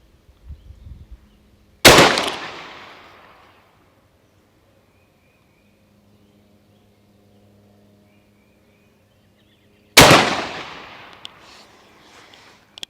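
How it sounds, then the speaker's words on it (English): Two loud 12 gauge shotgun blasts firing Winchester rifled slugs at an outdoor range, each a sharp crack with a ringing decay, spaced about eight seconds apart with quiet between. "here we go with 2 more of these Winchester rifled slugs"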